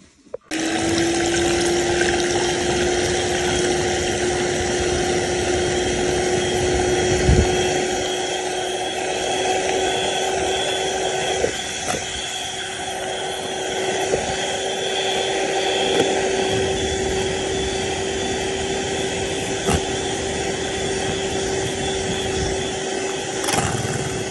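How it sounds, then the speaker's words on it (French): An electric hand mixer beats egg whites for Japanese pancakes, giving a loud, steady motor whine with a sustained tone that runs without pause, close up and with no talking. "On va venir battre nos blancs d'œufs avec un batteur électrique"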